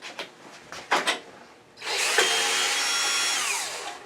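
A power drill backs out the screws holding the shroud on a variable speed bench grinder: a few short clicks and bumps, then a loud, steady close-up whir that holds for about two seconds and winds down.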